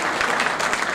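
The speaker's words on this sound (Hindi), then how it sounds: "मैं चाहता हूं महेश दुबे के सम्मान में बात जोरदार तालियां बजाकर स्वागत करें" Applause from the audience at a Holi comic poetry gathering, a brief, dense burst of continuous clapping lasting about a second.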